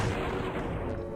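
Ship destroyed in the space game Space Quest 5: dense, continuous rumbling blasts and booming crackle fill a short stretch at steady loudness, with no voices.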